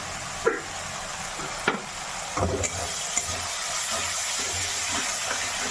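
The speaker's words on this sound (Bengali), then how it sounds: "এবার এই মশলাটা একটু ভেজে নেব।" Spice paste sizzles in hot oil for a village-style Bengali fish curry, a steady close frying hiss with a few stirring knocks and scrapes near the start and no talk.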